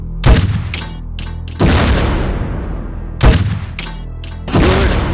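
An OICW grenade fired from the rifle toward a target behind a brick wall in the PC game Soldier of Fortune II: Double Helix, with sharp loud launch bangs followed by rolling booming blasts, repeating in two bursts.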